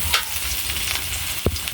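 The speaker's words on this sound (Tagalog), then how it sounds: "Maggisa na tayo. Sibuyas, bawang." Onion and garlic sautéing in a pan, a steady soft sizzle with a couple of brief stirring clinks, heard close and alone for a short moment.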